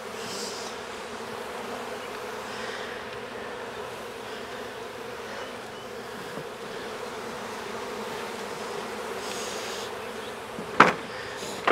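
A honey bee swarm is being captured into a hive in Jacksonville, Florida. It gives a steady, soft, even buzzing that lasts throughout, with a brief knock near the end.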